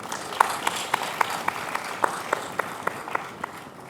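Sparse, slightly uneven clapping from a few people at a 10th anniversary university alumni gathering, sharp claps spaced about a quarter second apart over a diffuse room background.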